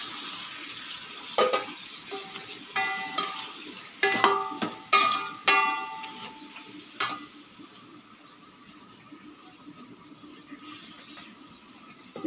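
Onions frying with a little salt in a pan for biryani, with a spatula clattering and scraping in short bursts over a soft, steady sizzle that fades toward the end.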